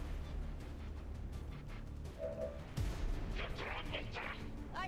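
Gunfire and explosions in the XCOM 2 video game, a low boom followed by scattered shots and bursts at moderate level, mixed with game voices and background sound.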